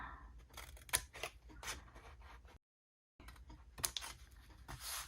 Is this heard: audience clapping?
no